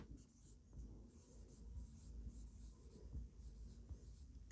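Marker or chalk writing on a board during a classroom lesson, faint soft scratchy strokes in a quiet room, continuous and close.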